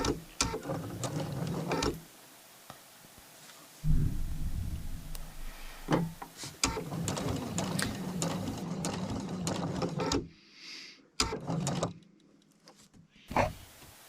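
A sewing machine backstitching to lock a seam, running in short motor bursts that stop and restart several times, with brief pauses and a few mechanical clicks between.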